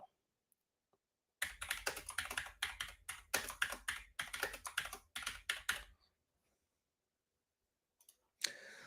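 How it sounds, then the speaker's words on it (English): Rapid typing on a computer keyboard, a dense burst of close clicking keystrokes for several seconds, then silence and a few stray clicks. "while I type"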